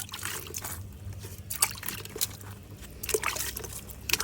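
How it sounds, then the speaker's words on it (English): Water trickles from a watering can onto young trees on a homestead in Ghana, a quiet, steady splashing dribble with small irregular splatters and no talking. "You see why I like the watering can?"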